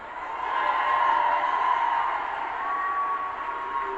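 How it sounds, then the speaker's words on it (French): A French gathering reacts with applause and cheering, a steady, moderate wash of crowd noise with a whistling tone running through it, continuous across the moment. "Salutations et applaudissements, s'il vous plaît."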